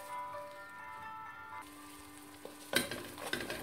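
A spoon stirs water into a butter and flour roux for béchamel in a pan over low heat. Quiet tonal background sounds play first, then soft scraping and a light clatter of utensil on pan come toward the end.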